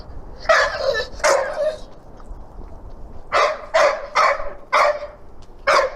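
A dog barks in two short pairs, then a quicker run of five sharp barks, fairly close and loud with little else around.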